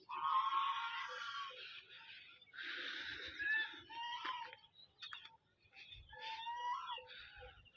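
Broiler chickens on a small farm with a pond and pig feed store, giving clucking and crowing calls in bursts, fairly close and moderately loud, with faint low rustling between calls.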